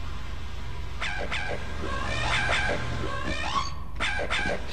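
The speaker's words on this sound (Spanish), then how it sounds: "Está el maldito perro." A dog in the Half-Life game gives several short yelping barks and whimpers, fairly clear over a steady low background hum.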